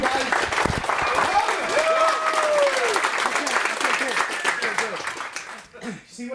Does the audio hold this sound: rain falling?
no